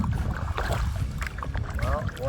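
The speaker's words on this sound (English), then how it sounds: "paddling across Little Osler here" Canoe paddling across a small lake in Algonquin Park, with soft water swishes and drips under steady wind noise on the microphone and some background voice.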